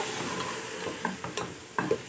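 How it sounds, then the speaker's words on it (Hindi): Fenugreek leaves sizzle in a hot pan while a spoon stirs them, a steady frying hiss broken by a few sharp scraping knocks, close and fairly loud. "अब हम इसमें डाल रहे हैं मेथी। बिस्मिल्लाहिर्रहमानिर्रहीम। और इसको भी हम 1 से 2 मिनट को भून लेंगे।"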